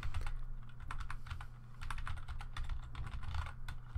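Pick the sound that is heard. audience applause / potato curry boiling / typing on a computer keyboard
typing on a computer keyboard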